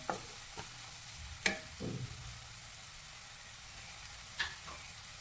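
Tomato stirred into egg burji frying in oil, with a few soft scrapes and brief clatters of the spoon against the pan over a low, quiet sizzle.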